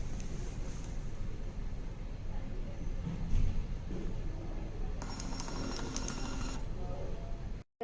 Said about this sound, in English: To print the result, switch on the printer and tap print.